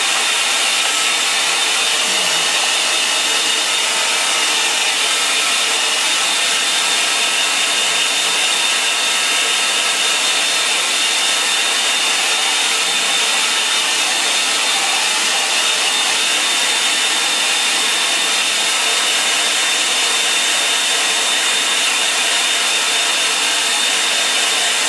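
A hair dryer blows continuously and loudly at close range, drying a line and wash sketch, a steady whooshing roar with no pauses.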